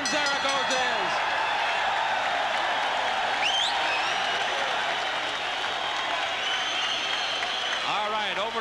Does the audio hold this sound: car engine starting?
no